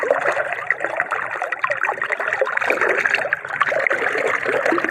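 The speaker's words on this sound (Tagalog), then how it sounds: "nag-iipo-ipo yung mga tubig" Floodwater swirling and churning through flooded rice paddies after a typhoon, a continuous dense gurgling rush with fluttering splashes, fairly loud and close, with no talk over it.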